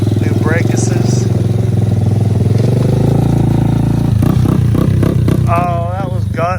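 A Honda ATC 90 three-wheeler runs nearby, its small engine droning steadily before rising and revving unevenly, with loud voices talking over it toward the end.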